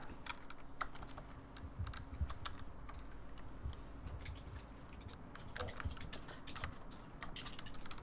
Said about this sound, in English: She tries to type really quietly and she fails.